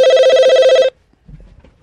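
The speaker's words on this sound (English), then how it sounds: "Let me get over here and answer the phone." A telephone rings with a loud, rapid electronic trill lasting just under a second, then cuts off, leaving faint handling noise and a soft clunk as it is picked up.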